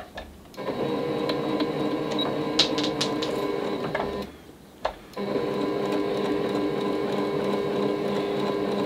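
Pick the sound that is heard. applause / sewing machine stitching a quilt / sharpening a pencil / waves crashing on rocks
sewing machine stitching a quilt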